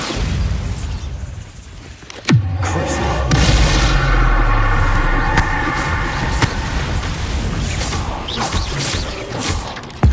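A Bombarda blasting spell going off in the game Hogwarts Legacy, a loud, sudden boom followed by a long rumbling, crackling aftermath and debris noise, with no voices.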